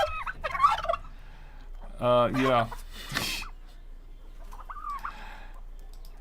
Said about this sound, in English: I'm thankful for these turkeys